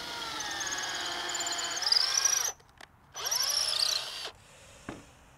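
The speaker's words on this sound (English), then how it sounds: "I'm going to do another hole with the 1/4 drill bit" A power drill with a 1/4 inch bit bores through a wood block, two loud whining bursts with a rising squeal, separated by a short pause, then a faint tap.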